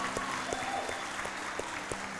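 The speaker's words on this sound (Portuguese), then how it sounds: "Dê um forte aplauso àquele que é digno." A church congregation claps together, dense and steady, with faint voices underneath and a sustained tone running through the room.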